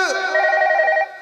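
A storyteller imitates a ringing telephone with his voice, giving a single short, warbling, ring-like tone.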